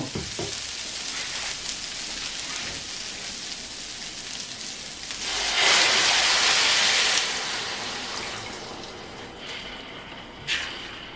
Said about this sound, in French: Et maintenant, on va mettre les bouillons.